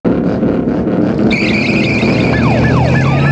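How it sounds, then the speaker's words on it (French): Tires screech during a car chase in the 1979 film Mad Max, a sustained loud squeal over roaring engine noise, with siren-like swooping tones joining partway through and continuing to the end. "les pneus qui crissent en plein dans la figure"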